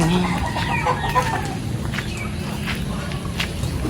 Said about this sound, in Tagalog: Ayan po ang mga alaga ni Bossing na tuwing umaga at hapon ay kanya pong pinapakain